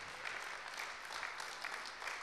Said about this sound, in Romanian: vă rog pe voi să-i aplaudați.